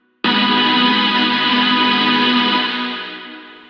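A sustained electronic synth chord for a mid-tempo/future bass track rings out loudly, bright and slightly distorted with echo, holding steady then slowly fading; no voices.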